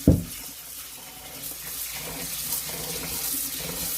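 Water gushes steadily from a kitchen tap into a sink while rice is rinsed, a close, continuous hissing stream that opens with a brief knock and goes on without any talk.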